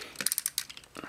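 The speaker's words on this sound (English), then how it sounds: "Arms click." Plastic joints on a Miracle Productions vehicle Voltron toy robot arm click sharply in a quick cluster of close, bright ticks, then fall quiet before a couple more soft clicks.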